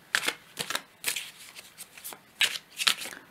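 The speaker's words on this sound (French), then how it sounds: "On va prendre encore une carte." Tarot cards are shuffled and drawn by hand up close, a run of crisp papery flicks and snaps in uneven bursts, each sharp riffle followed by softer sliding.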